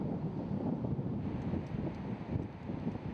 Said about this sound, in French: Alors aujourd'hui, il y a quand même pas mal de vent